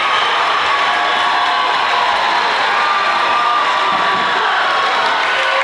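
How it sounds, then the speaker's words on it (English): A crowd at a high school basketball game between Knoch and Highlands roars during a comeback, a dense, loud, sustained wash of cheering and shouting with no break. "Listen to this crowd."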